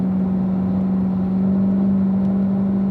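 A race car engine accelerating through the gears on a track, heard as a steady, strong droning hum that holds even and loud from start to end, with no voices.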